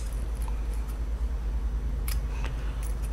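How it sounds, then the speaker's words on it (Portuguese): Scissors snip away leftover fabric at the sides of a small crossbody bag, a few crisp close cuts over a low background hum. "Essa sobra que ficou nas laterais, a gente vai cortar"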